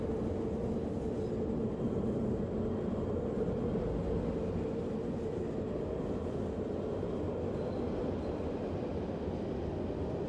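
A train running in the video game Fallout London, a continuous low rumbling roar that stays steady and fairly even throughout, with no voices over it.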